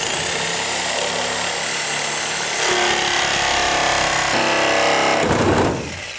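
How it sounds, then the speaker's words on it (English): A sawzall reciprocating saw cuts through screws, a loud, close, rasping buzz that changes pitch partway through as the blade bites into metal, then drops off near the end. "If your sawzall is loose, then the blade will catch things and then your machine will bounce back and forth."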